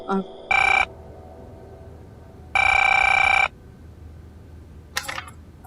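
A telephone rings twice in a domestic drama scene, two loud bursts of electronic ringing separated by a pause, followed by a brief click, over a low background hum.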